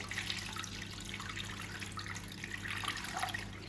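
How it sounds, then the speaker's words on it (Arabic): Crepe batter made from chickpea flour, water and egg is poured steadily into a baking tray, a continuous soft liquid trickle and splash close by with no talking. "راح نفرغ الخليط نتاعي كامل في سنيوه"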